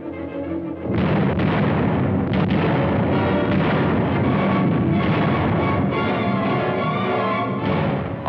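Artillery fire from archival Battle of the Bulge footage around surrounded Bastogne: loud, continuous booming barrages and rumbling blasts that roll on after a short quieter opening, with no voices.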